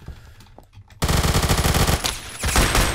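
Vector submachine gun in the video game Phantom Forces firing a long, loud, rapid full-auto burst that starts abruptly after a quiet moment, with a brief break before more shots.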